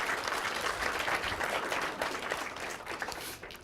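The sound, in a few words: audience applause for volunteers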